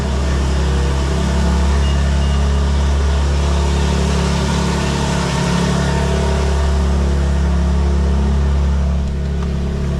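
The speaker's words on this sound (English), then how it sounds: "That cold start is with the valves closed." BMW engine running after a cold start with the exhaust valves closed, a loud, deep and steady rumble heard up close, holding evenly for the whole stretch.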